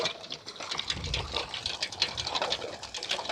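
Water gushing from the outlet pipe of a bicycle-wheel river pump, pouring steadily into a bucket outdoors, a continuous splashing fill with some background noise and no voices.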